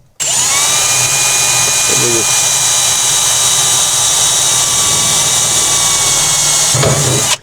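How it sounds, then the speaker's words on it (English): A hole saw cuts through the roof of a Toyota Hilux N70 with a loud, steady, high-pitched whine that runs unbroken for about seven seconds and then stops abruptly. "when you drill your main hole, you can just use that hole to guide your hole saw"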